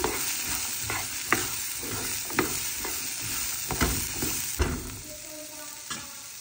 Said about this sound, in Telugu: చిటికెడు పసుపు అండ్ కొద్దిగా సాల్ట్ వేసుకొని కొద్దిసేపు ఫ్రై చేసుకోవాలన్నమాట.